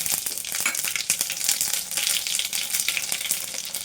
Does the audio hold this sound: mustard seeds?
yes